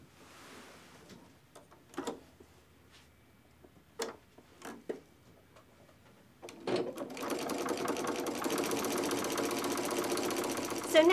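A sewing machine runs steadily while stitching binding onto a quilt, a continuous close whirring that starts after several scattered clicks and taps of handling the fabric and lasts about four seconds.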